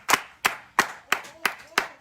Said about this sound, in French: Acclamons pour la parole de Dieu